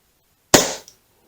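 A single sharp crack from a WE Browning Hi-Power MK3 gas blowback airsoft pistol, loud and close, with a brief metallic clack as the slide cycles just after.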